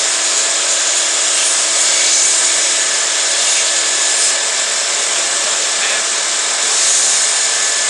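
A belt sander grinds a piece of glass, giving a loud, continuous abrasive whine with a steady hiss. The tone stays even and close throughout with only slight swells.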